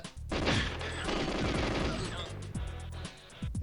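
Gunfire in the Nintendo 64 game GoldenEye 007, dense rapid bursts of shots loud and continuous for most of the stretch, thinning to a few separate shots near the end with voices mixed in.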